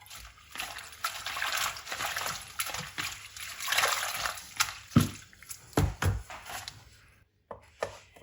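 Fresh mint leaves being washed in water, with continuous splashing and sloshing as the leaves are rinsed by hand, followed by a few sharper handling knocks near the end.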